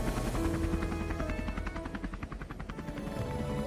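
A helicopter in flight produces a loud, continuous rotor roar with rapid pulsing blade chop throughout, close and steady with no talking.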